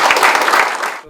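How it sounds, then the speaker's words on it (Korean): Audience applause welcoming a newly appointed deputy mayor at an official gathering, loud close clapping from many hands that lasts about a second before cutting off. "우리 모두 환영의 박수를 보내주시기 바랍니다"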